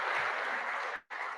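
Audience applause at a university faculty and staff fall address: a steady, dense wash of clapping that breaks off briefly near the end, then resumes.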